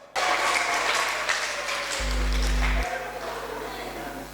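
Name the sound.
congregation applauding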